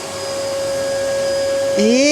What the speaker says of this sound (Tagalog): This is our vacuum and then?